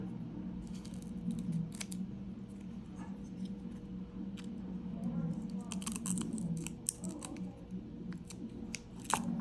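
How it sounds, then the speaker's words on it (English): Scissors trim protective film for an LED clock kit. Several crisp, close snips come in short bursts over a low steady hum, with a few light handling rustles. "Trim that down a little bit extra."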